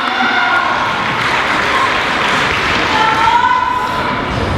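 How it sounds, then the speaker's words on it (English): Steady audience applause and scattered cheers for dancers at a Tahitian dance competition, a dense, even wash of clapping from a large crowd throughout. "Give them a big round of applause."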